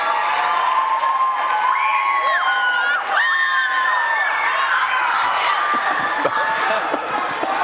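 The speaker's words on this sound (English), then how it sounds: "Give yourselves a round of applause." A student audience at a film challenge workshop cheers, whoops and shouts along with some clapping. Rising and falling yells fill the whole clip, loud and close, and end in scattered shouts.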